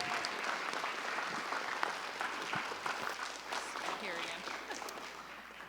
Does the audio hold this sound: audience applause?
yes